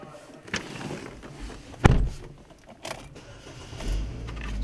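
A Chevrolet Equinox engine starts with a brief cranking burst, then settles into a low idle rumble, heard from inside the car alongside faint clicks and handling noises.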